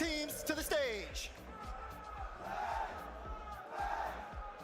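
A large live crowd at a Rocket League Championship Sunday Major LAN event roars and cheers, with whoops and battle cries over a reverberant arena bed, while an amplified announcer voice talks over it.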